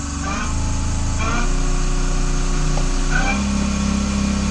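Wood lathe motor speeding up to 2000 RPM while polishing a walnut cake stand, a loud steady whine stepping up in pitch partway through and holding there.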